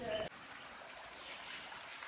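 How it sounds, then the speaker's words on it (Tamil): Water flowing in a stream in Wadi Lajab, a desert canyon in Saudi Arabia, makes a steady, even rushing wash that starts after a brief voice and runs on alone. "தண்ணி ஓடிக்கிட்டு இருக்கு."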